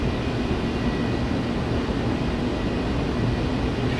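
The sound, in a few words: Concorde afterburners on takeoff, from video game Flight Simulator X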